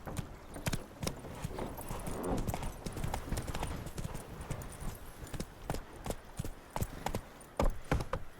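Hooves clip-clop rapidly and steadily as a horse gallops in The Witcher 3: Heart of Stone, loud and close, with a faint whinny and no speech.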